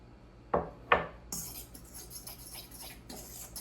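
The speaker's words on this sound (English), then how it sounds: "That's why I'm using the fork" A fork works butter into a crumb topping for blueberry lemon bread, giving two sharp scraping clinks against the bowl followed by softer rhythmic rubbing and scratching strokes, close and fairly quiet.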